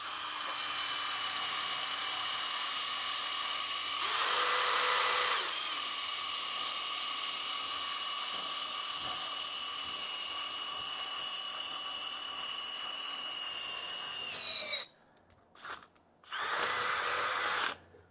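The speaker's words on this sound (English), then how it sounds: "we are drilling through thicker metal" A power drill with a cobalt bit grinds through thick steel, with a sustained high-pitched whine that briefly rises in pitch, then stops and restarts in short bursts near the end.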